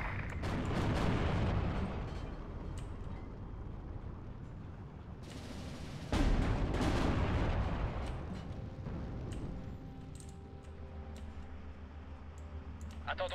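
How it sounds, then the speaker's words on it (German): WWII artillery in the strategy game Steel Division 2 opens up with heavy booms and rumbling explosions, a big burst early and another sharp blast midway, with clicking interface sounds and scattered quieter impacts around them. "So, da kommt die Arti."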